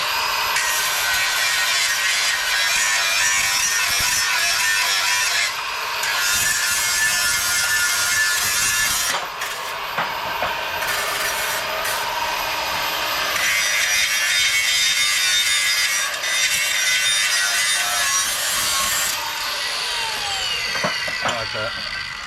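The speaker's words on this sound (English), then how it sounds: "let me grind that edge" Pinball leg edge being ground by a power tool: a loud, continuous abrasive grinding that runs nearly the whole time, with brief dips in intensity as the tool eases off and bites again.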